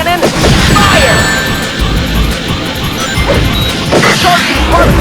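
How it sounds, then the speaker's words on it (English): Particle beam cannon firing in Shadow the Hedgehog, a loud, dense sustained blast with crashing bursts and rumbling booms throughout, close and overwhelming, mixed with game music. "Particle beam cannon. Fire!"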